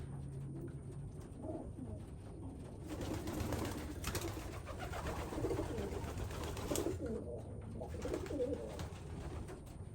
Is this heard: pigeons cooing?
yes